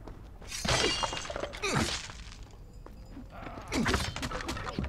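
Objects shattering and breaking in the Prince of Persia: The Two Thrones video game, several crashing bursts with hard debris-like clatter spread across a few seconds, fairly close and loud.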